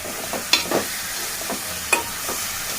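Brinjal pieces and curry leaves sizzle in a pan as they are stirred, with a steady frying hiss and a few sharp scraping clanks of the spoon.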